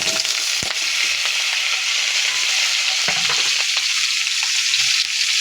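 Rabbit meat dropped into a hot pan of oil, crackling and sizzling loudly and continuously, with occasional stirring scrapes and pops and no voices.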